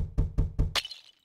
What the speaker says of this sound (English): why does a glass sound like Lego bricks?